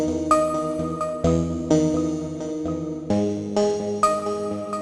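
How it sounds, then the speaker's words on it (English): Synth chords processed with a Gross Beat half-speed effect and dropped an octave, sounding slowed and deep, with sustained chord changes arriving every second or so in a smooth, continuous pad-like flow. "So this is going to be half speeding the sound, playing it down an octave and playing it twice as slow."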